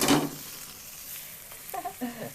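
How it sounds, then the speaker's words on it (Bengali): Potato chops fry in hot oil with a soft sizzle and occasional stirring and pan noises, heard close and fairly quiet over a short stretch. "এইভাবে আমি পুরোটা ভেজে নেব"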